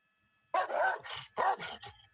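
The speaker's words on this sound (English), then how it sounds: "The dog's back again." Police dog barking during a police chase in Los Angeles: two loud, close barks with a short whining tail, separated by a brief pause, with no talk over them.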